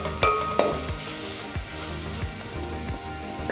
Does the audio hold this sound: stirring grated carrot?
yes